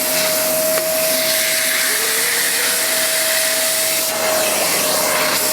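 A Vax Rapide Ultra 2 carpet washer runs continuously with a loud, close motor roar and steady suction rush, its tone holding nearly constant with slight shifts as the cleaning tool moves.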